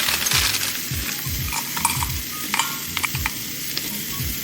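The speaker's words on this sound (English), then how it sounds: "I'm putting some broccoli in here" Hard pieces of frozen broccoli clatter and rattle into a container in quick bursts, close and fairly loud, with no talking.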